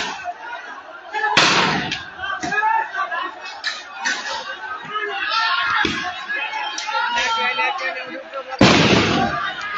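Tear gas shells and bombs burst during a heated railway protest at Kotsila station, with two sharp loud blasts among scattered pops and crackles, under constant shouting and excited talk from a crowd.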